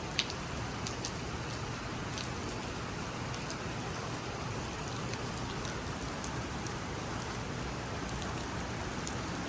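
Rain falling steadily on an outdoor platform at Sydney's Redfern Station, a constant broadband patter with faint passing road traffic in the background and occasional sharper drips.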